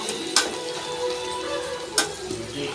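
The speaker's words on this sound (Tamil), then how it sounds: "இஞ்சி பூண்டு பேஸ்ட்டு தக்காளியெல்லாம் போட்டு நல்லா இறால் கிரேவிக்கு நல்லா ஃப்ரை பண்ணிகிட்ருக்கேன்" Ginger garlic paste and tomatoes frying for a prawn gravy, a soft steady sizzle close by, broken by two sharp clicks of a utensil against the pan.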